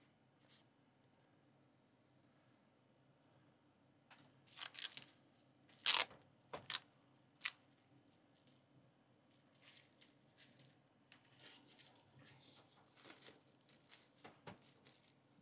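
Crinkly plastic bag being torn and pulled off a UPERFECT 16-inch portable gaming monitor, with scattered sharp rips and crackles over a low hum, busiest in the middle and trailing into softer rustling.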